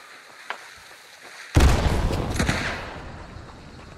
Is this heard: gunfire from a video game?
yes